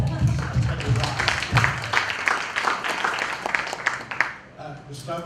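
An audience at an international symposium claps for Gustavo, a moderately dense round of applause that thins toward the end, mixed with voices talking over it.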